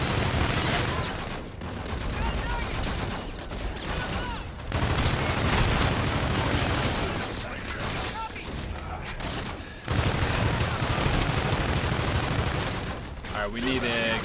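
Dense, loud bursts of automatic gunfire and rapid shots fill the Call of Duty Infinite Warfare firefight almost without pause, with brief gaps and booming impacts mixed in over a continuous battle din.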